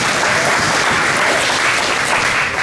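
Guests at a 50th wedding anniversary party applaud, a loud, dense, continuous wash of clapping with no gaps from start to finish.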